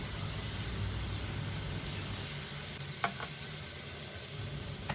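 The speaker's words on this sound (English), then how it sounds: "we will add 1/2 tablespoon of ginger garlic paste, and we will saute them well for at least 2 to 3 minutes" Ginger garlic paste sautéing in a pan, a faint, even hiss of frying with a couple of soft spoon clicks partway through; no talking.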